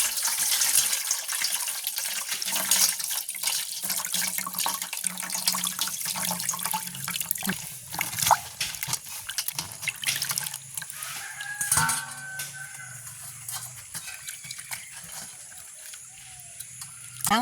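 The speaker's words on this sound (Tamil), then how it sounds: "கழுவி போட்டு தான் வெட்டுவோம்." Vegetables are washed under running water from a tap in a village kitchen. The steady splashing runs throughout, and a rooster crows in the background.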